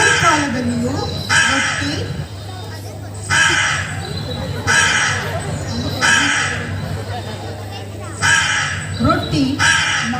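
Crow caws serve as a sound effect in a church Vacation Bible School stage play, sounding as loud cawing bursts repeated about every second and a half, with a voice heard along with them.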